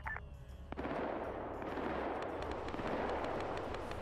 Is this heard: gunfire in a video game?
yes